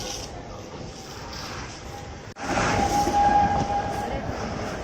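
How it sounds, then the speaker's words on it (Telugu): A tourist toy train at Kailasagiri in Visakhapatnam rolls backward after brake failure, making a steady rail rumble that grows louder midway, with a thin metallic squeal rising over it. "పర్యాటకుల కోసం వేసిన టాయ్ ట్రైన్ బ్రేక్స్ ఫెయిల్ అవడంతో ఒక్కసారిగా వెనక్కి పరుగులెట్టింది"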